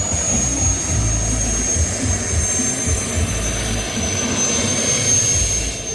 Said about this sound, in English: There goes the jet bike.